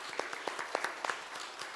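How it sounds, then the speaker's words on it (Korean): Scattered audience applause at a climate science forum in Korea, quiet and thin, with a few distinct claps standing out over a soft wash for under two seconds. "큰 박수 부탁드릴게요."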